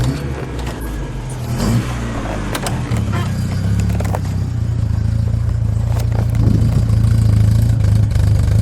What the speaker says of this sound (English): It's got kind of that wheezy sound because it's a opposed cylinder engine